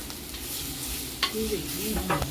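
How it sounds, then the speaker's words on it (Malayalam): Food stirred in a pan over a low flame for a coconut-milk dish, with a soft continuous sizzle and a few spoon scrapes and clinks, near and without talk. "ലോ ഫ്ലെയിമിലിട്ടിട്ട് മിക്സ് ചെയ്യുക നന്നായിട്ട്"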